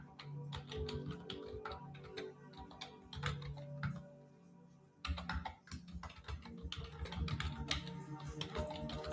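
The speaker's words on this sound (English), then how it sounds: "I'm just going to type this question." Fingers typing on a computer keyboard, giving a steady stream of quiet, close key clicks with a brief pause midway before the tapping picks up again, with no voices.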